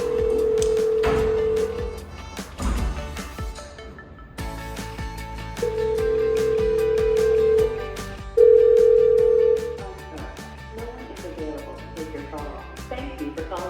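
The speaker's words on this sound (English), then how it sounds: "System dialing." A telephone system dialing and connecting, with steady dial tones and clear tone bursts sounding close and loud over background noise, while a voice speaks intermittently.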